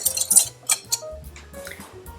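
Vanilla sugar and plain sugar stirred together in a bowl for crepe batter, giving light clinks and scrapes of a utensil against the bowl in a few quick, irregular strokes.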